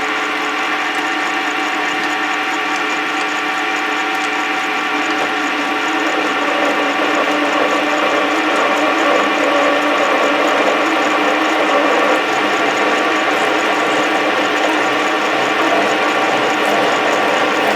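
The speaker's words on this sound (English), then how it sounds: "As we attempt to drill this." A power drill with a 1 1/64 inch bit whines steadily and loudly without pause, a continuous motorized grind running the whole time.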